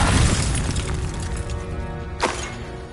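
A Confringo fire spell in Hogwarts Legacy bursts with a loud shattering crash, then rumbling debris settles and a sharp swoosh cuts through near the end.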